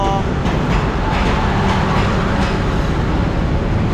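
Air-conditioned diesel railcar train 389 at Hua Lamphong station in Bangkok, a loud, steady rumble of the railcar close by with faint rhythmic clicking and no talk.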